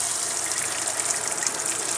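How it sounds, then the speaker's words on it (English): Water gushes hard from a camper faucet fed by a newly installed Shurflo 2088 pump, a steady, dense broadband rush at close range with no gaps, running full pressure the whole time. "Beautiful water coming out now, unlike before."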